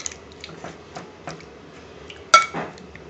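Spiced paneer tossed in a bowl, heard as light clinks and scrapes of utensil on dish, one sharper knock near the end, no talking.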